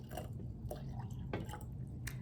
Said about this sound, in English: And now I'll fill up my next jar.